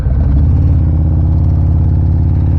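A car engine runs close by in a loud, deep, steady rumble with a fast regular pulsing throb, holding an even level throughout without other sounds.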